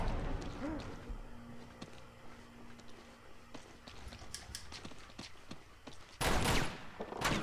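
Gunfire in Uncharted 2: Among Thieves, where scattered quiet shots crackle through a noisy firefight and a louder blast lands near the end, with a voice talking over it.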